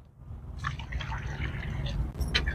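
Water pours and splashes into a pot holding a rose plant, dripping and filling close by while someone speaks over it.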